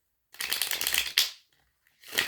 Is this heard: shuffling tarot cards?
yes